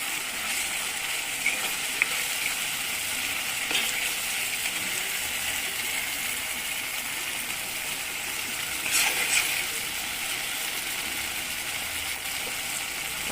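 Tomatoes frying in a pan with tilapia fish, a steady close sizzle and crackle of hot oil with a few faint scraping stirs, continuous throughout.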